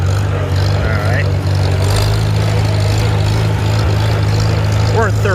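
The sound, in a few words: Farmall Super C tractor engine driving in third gear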